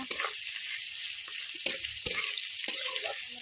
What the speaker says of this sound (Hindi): पियाज को भाजीदवा